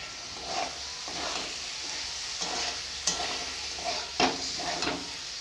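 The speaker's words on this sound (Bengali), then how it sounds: "এবারে ভেজে রাখা ফুলকপিগুলো দিয়ে দেবো" Fried cauliflower pieces stirred into sizzling masala for a home-style cauliflower roast, steady frying hiss with several sharp scrapes and clanks of the spoon against the pan, close, no talk.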